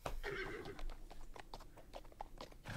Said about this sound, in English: Ooh, the horse.